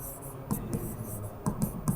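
Chalk or marker strokes scratch across a classroom board during a matrix cofactor lesson. The strokes come in short, uneven bursts over about two seconds, quiet and close, with no speech.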